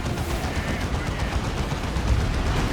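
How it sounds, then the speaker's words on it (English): Plasma gun blasts ring out in the real-time strategy game Dawn of War 2 amid a dense 3v3 battle, a loud continuous wash of rapid crackling fire and explosions with no clear breaks. "It was the plasma gun blast thing."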